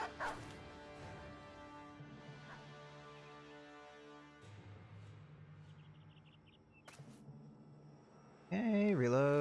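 War dog in the Battle Brothers video game, amid quieter game tones and effects, breaking into a loud, close burst of barking and yelping at the very end.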